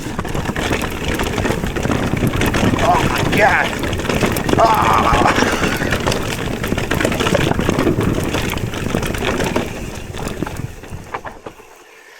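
Mountain bike rattling and clattering over a rough trail without pumping, a dense continuous noise with wind rush and short exclamations from the rider, fading out at the end.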